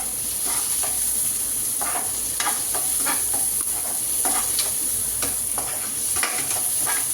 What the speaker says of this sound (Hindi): हम इसमें प्याज ऐड कर देंगे क्योंकि हमने प्री हीट कर रखा था पैन